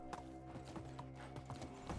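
Horse hooves clip-clop at a steady, even trot in a medieval village setting of Medieval Dynasty, close and fairly loud over a low humming backdrop, with a faint whinny hinted near the end.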